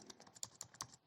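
Brisk keystrokes on a computer keyboard while entering code in a Python pandas session, a quick uneven run of close, light clicks with no voices.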